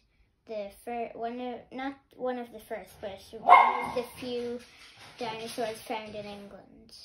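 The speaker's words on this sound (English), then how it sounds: "That is my dog barking in the background." A pet dog barks in the background during a talk about Baryonyx dinosaurs, one burst near the middle standing out under steady close speech.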